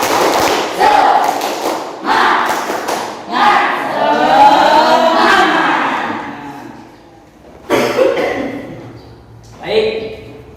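A school class claps loudly in a quick rhythmic spirit-clap pattern, mixed with voices chanting and shouting together, followed by a few more bursts.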